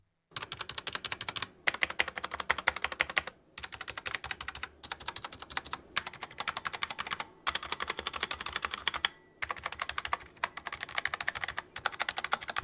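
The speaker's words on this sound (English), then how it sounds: "listen to the stabilizers back to back" Typing on a $50 stock keyboard with stock stabilizers, a steady close clatter of keystrokes in bursts separated by brief silent pauses, with no voices.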